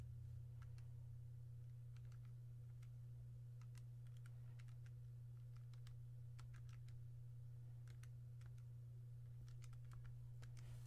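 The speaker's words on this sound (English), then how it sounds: "Now typing that all into my calculator," Quiet, irregular clicks of keys being pressed on a calculator, a scattered series of short taps over a steady low hum, with no talking.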